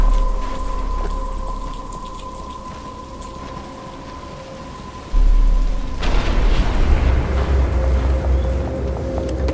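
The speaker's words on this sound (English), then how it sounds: "But it's starting to rain." Rain falls in Batman: Arkham Asylum as a steady hiss of drops over a low tonal game hum, broken near the middle by a sudden deep rumble like thunder, with no talking.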